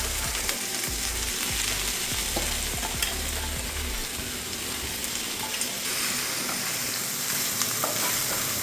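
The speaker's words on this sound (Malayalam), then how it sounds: "ഒന്ന് നല്ല വൃത്തിയായിട്ടൊന്ന് ഇളക്കി കൊടുക്കണം" Spinach and red cowpeas sizzle and fry in a pan while being stirred, a steady broadband crackle with low scraping strokes through the first half, continuous and close with no talking.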